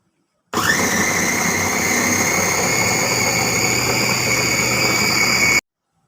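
An electric chopper whirs loud and steady for about five seconds, a continuous motor drone with a high whine, as it minces salted chicken for nuggets, starting and stopping abruptly.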